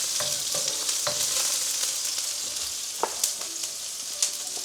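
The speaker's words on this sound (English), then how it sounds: "So we'll start these onions first. Kind of get it mixing in there." Onions fry in a pan for a steak stir fry, giving a steady bright sizzle broken by occasional spatula scrapes and clicks, close and without speech.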